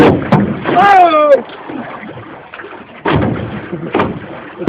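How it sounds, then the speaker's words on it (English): Paddles splashing and a boat knocking through river rapids during a tropical storm, with sharp bursts of water and thuds, under loud excited shouting and talk. "These are the rapids."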